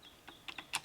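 Typing on a mechanical keyboard with solid, smooth keys: a quick run of four or five crisp, close clicks, the last one sharpest, over a quiet background.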